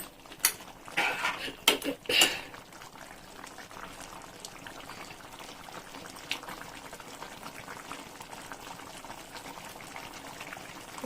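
A pan of Chettinad-style chicken curry bubbles and simmers softly, with a few clinks and stirring noises at the start before settling into a gentle, steady boil.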